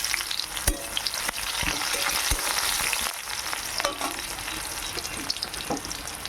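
Chopped onions hitting hot oil alongside dried and green chilies, a bright crackling fry with several sharp pops and stirring scrapes, loud and close, with no speech.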